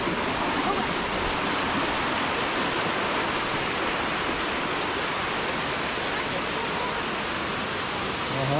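Water pouring steadily over a weir beside a fish ramp, a loud, continuous broadband rush close by without letup.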